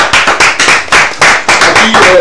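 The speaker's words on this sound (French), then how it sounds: "Avec des applaudissements, bonsoir." A studio audience on a Togolese TV culture and debate show claps to welcome a guest, with close, loud, rhythmic bursts of clapping in quick repeated waves.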